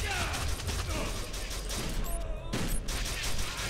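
Gunfire in the game Kane & Lynch 2, a rattling burst of shots and clanking mechanical clicks under a dense noisy background, with a couple of sharp whizzing sweeps near the end.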